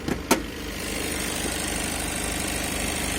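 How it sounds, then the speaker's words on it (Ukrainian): A Citroen Jumper van engine idles with the hood open, a steady close rumble with an even low throb after a couple of brief knocks at the start. "мотор роботає, працює як бензиновий"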